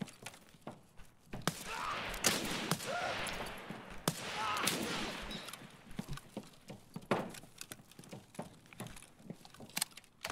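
Gunfire in the shooter game Escape from Tarkov, sharp scattered shots and bursts, some near and some farther off, with brief muffled voices in between.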